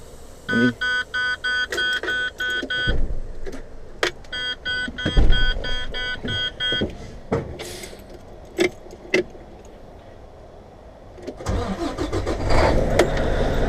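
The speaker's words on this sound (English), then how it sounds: "start the engine," A heavy haul truck cab gives repeated warning chimes, then clicks, jangling keys and handling noises, and near the end the engine cranks and catches into a running rumble, all close by.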